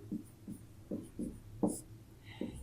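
A pen writing out a math solution on paper, heard as short scratchy strokes in an irregular rhythm, close and fairly quiet, with no talking.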